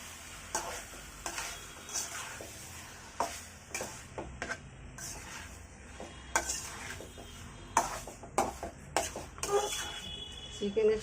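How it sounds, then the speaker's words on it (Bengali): Chicken pieces are turned with salt and spice masala in a pot, giving a soft background sizzle broken by irregular spoon clinks and scrapes against the metal, some sharper knocks toward the end. "চিকেনের সাথে আমি লবণটাকে ভালোভাবে মিশিয়ে দিলাম।"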